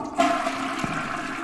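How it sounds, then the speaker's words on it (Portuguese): A single toilet flush rushes from a bathroom in the horror video game Toilet Rooms, a loud close gurgling swirl of water that starts abruptly and holds steady for a second or so, alone with no voices. "Será que eu tenho que dar descarga em todas as privadas?"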